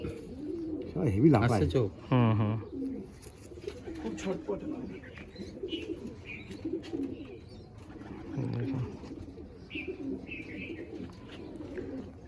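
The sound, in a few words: pigeons cooing in a loft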